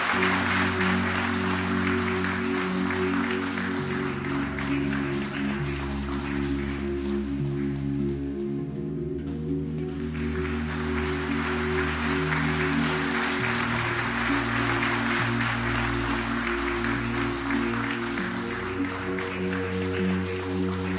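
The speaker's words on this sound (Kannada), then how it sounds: "ಜೋರಾದ ಚಪ್ಪಾಳೆ ಬರಲಿ" An audience at a yoga event claps loudly and continuously for about twenty seconds as guests are led onto the stage, the dense clatter resembling rain, over steady sustained musical tones.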